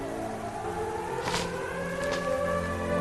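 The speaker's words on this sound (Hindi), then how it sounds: "जब आप लोगों को ये सायरन सुनाई देगा" A memorial siren wails steadily at moderate distance, a sustained rising-and-falling tone holding throughout with no voices over it.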